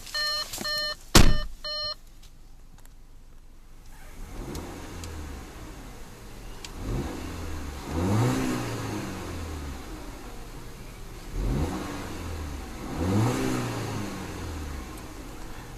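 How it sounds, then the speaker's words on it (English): A few chimes sound, then a turbocharged four-cylinder engine revs repeatedly, rising and falling in three distinct pulls with no talking. "let's see about a few revs of that inline 4-cylinder turbo"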